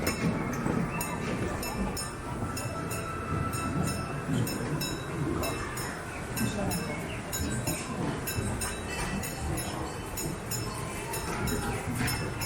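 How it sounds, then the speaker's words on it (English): A park train at Europa Park in Germany rolls past on its rails with a steady rumble, faint clinks and clicks of the wagons running continuously at moderate distance. "Here's the train, yes."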